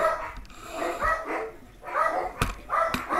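Several dogs barking repeatedly nearby, with overlapping yips and barks in uneven bursts across the moment, loud and close, with no talking.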